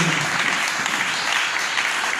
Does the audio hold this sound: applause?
yes